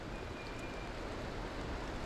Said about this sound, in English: with it raining like this and this has all gotten wet